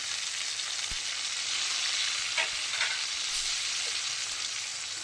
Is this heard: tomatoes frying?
yes